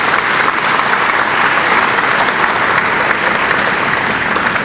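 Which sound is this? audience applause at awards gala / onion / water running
audience applause at awards gala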